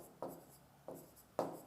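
Pen strokes of handwriting on paper, three short scratchy bursts spaced about half a second apart, quiet and close, with no talking.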